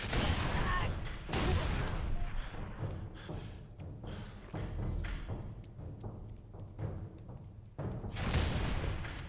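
Blue energy weapon shots from Halo 3: ODST fire in a quick fusillade of sharp bursts amid a busy battle din, with loud clusters at the start and end and thinner shots between.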